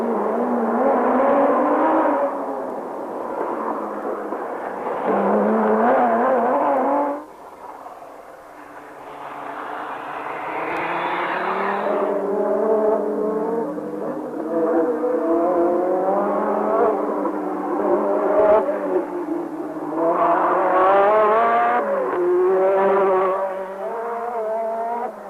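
Renault 5 Turbo rally cars racing on a road stage, engines roaring and rising through the gears in long loud passes, with a short lull before the revving builds again.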